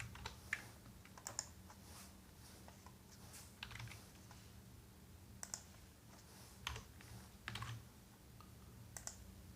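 Keystrokes on a computer keyboard while CSS code is typed, coming as irregular bursts of quick, close clicks with short pauses between words and a low steady hum underneath.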